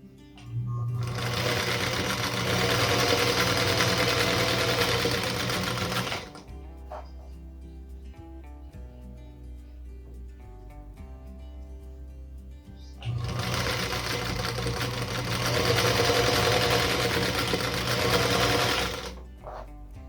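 A Featherweight sewing machine stitches a Dandy Star quilt block in two steady, whirring runs of about six seconds each, close and loud, separated by a quiet pause with faint handling noise.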